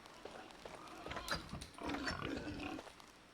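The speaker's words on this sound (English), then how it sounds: "this is every time I slaughter a pig" Pig slaughtered in a scary video game, a quiet burst of squealing and grunting with irregular snorts that rises briefly, then fades, heard alone.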